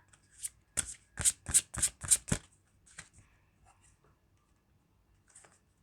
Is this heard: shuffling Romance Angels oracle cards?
yes